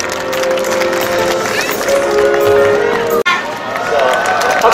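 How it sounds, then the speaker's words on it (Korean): An audience applauds and cheers for the K-pop girl group T-ara at a Korean public charity event. The crowd noise is dense and steady and keeps going with no break. "여러분 큰 박수 부탁드리겠습니다"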